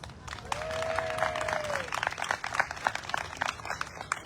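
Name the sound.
audience applause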